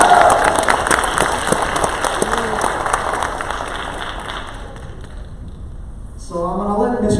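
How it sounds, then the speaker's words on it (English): Audience at a 2019 poetry slam claps and cheers as contestants walk on stage, loud at first, then thinning and fading out before a voice starts speaking near the end. "Clap it up as they come."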